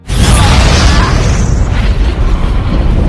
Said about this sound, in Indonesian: Akhirnya sarang itu pun berhasil ia ledakan dan Travis juga berhasil selamat.